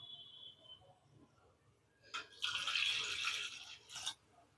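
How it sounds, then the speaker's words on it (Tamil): Water is poured into a rice flour mixture seasoned with salt, a short splashing burst of a couple of seconds after a quiet start, close and fairly soft. "இதில் வந்து நம்ம தண்ணி விட்டு கரைச்சிக்கலாம்"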